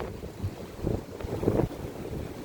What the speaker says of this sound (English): too windy to burn.